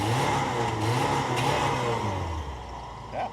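A cold Subaru WRX STI engine idling high then blipped with a couple of quick revs, a steady close droning rise and fall with a short extra rev near the end.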